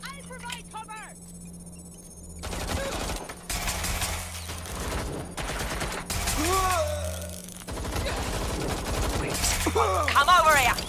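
Rapid gunfire bursts in a Watch Dogs: Legion gunfight, loud and near, with volleys going on through most of the stretch while voices shout over the shooting.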